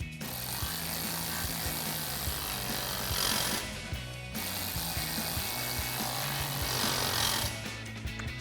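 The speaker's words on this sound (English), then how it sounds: "the T30 Torx socket to tighten it down" Bolts on a Bestop soft top bracket of a Jeep Wrangler JL being tightened with a T30 Torx socket, giving busy mechanical ratcheting clicks and tool noise that run steadily throughout, with no talk.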